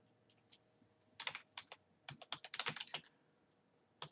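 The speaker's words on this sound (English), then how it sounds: "you want to hit Shift Enter and type in engineering" Quiet typing on a computer keyboard while drafting in CAD software: a few isolated keystrokes, then quick clustered bursts of clicks, close and faint with no speech.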